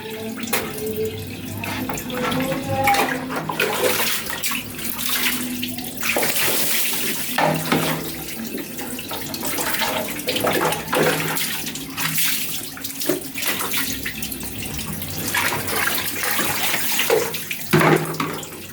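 Water splashes and pours steadily as a person bathes outdoors on a cool afternoon under trees, with close, continuous sloshing and occasional louder dumps of water.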